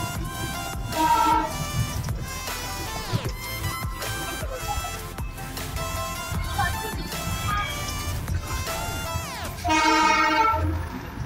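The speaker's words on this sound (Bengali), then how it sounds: "আর সবচেয়ে আকর্ষণীয় হলো পুরনো বাষ্পচালিত ইঞ্জিনের আওয়াজ।" Darjeeling toy train with an old steam engine, its loud whistle blasts standing out at the start, the middle and the end over a steady rumble of running carriages.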